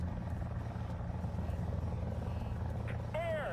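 OH-58 helicopter in the War Thunder air and ground simulator, a steady low rotor and engine drone running continuously at moderate level, with a brief rising tonal whine near the end.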